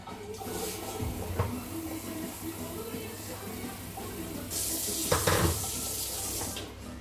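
Kitchen tap running warm water for klecha dough, a soft continuous faint splash with a brief louder gush near the end and light clinks in the background.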